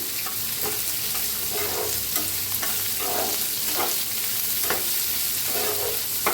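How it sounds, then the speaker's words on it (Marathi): Chopped onion frying in a pan while being mixed, a continuous sizzle broken by regular scraping and stirring strokes at close range, with no talking. "त्याच्यात टाकूया कांदा साईजचा कांदा कापून घेतलाय बघा छान भाजून घेऊया मिक्स करून"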